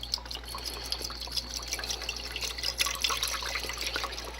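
Chicken stock poured into a pot at home for chicken and dumplings, heard as a soft, steady liquid trickle with light splashes, close and fairly quiet, with no talking.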